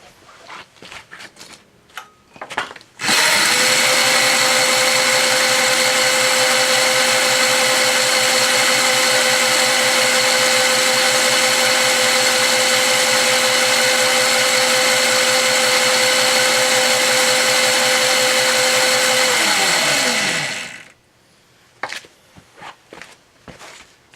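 A Razor E100 electric motor spins an unloaded mini bike wheel, rising to a loud, steady whirring whine that holds for about seventeen seconds and then spins down to stop, with faint handling clicks before and after.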